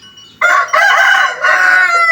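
Loud, close crow from a Thai fighting rooster kept at a village gamecock pen: a sudden onset followed by a long drawn-out call with a brief dip partway through, heard alone without talk.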